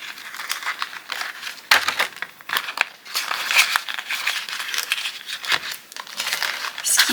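Crinkling and rustling of paper play banknotes being slipped into an envelope, close and fairly loud, with irregular crisp handling sounds throughout and no talking.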